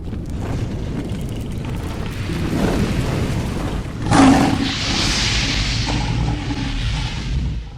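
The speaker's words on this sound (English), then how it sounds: "Intercontinental ballistic missile" An intercontinental ballistic missile launch, a heavy rumbling roar with a sharp crackling burst midway followed by a broad rushing hiss, loud and sustained throughout.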